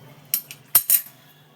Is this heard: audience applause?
no